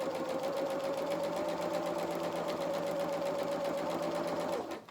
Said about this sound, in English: So we're just sewing this stitch,